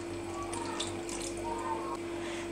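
Water pours in a steady, soft stream over stuffed dry dolma packed in a pot, with a faint constant hum in the kitchen behind it.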